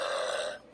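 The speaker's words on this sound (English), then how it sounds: "that's right, it makes us burp." A single short burp after a meal, loud and close, trailing off quickly into quiet.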